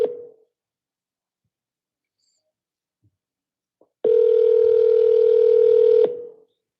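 A steady electronic telephone tone, the ringback heard while calling a for-sale-by-owner property listing before the line goes to voicemail, sounds for about two seconds alone and loud, then cuts off.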